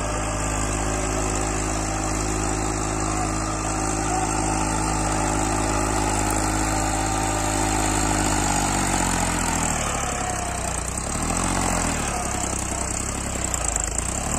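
A Massey Ferguson 7235 tractor pulling a loaded cultivator in a field, its engine droning steadily and loud with no drop in revs, a continuous close mechanical hum without speech.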